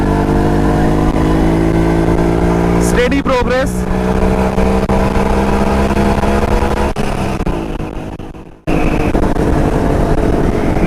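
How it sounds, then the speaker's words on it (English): A Jawa Yezdi D250 two-stroke motorcycle pulls hard in third gear with the throttle open, its buzzy engine rising in pitch, then briefly dropping away before the loud buzz returns, with someone talking over it. "It's the two-stroke noise."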